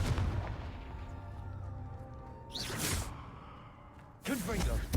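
Confringo explosive spell going off in Hogwarts Legacy: two bursts, a whooshing blast around the middle and a second louder one near the end, over a dense game soundscape with background murmur.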